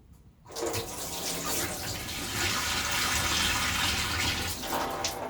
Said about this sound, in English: The rice will become very cloudy upon the first rinsing.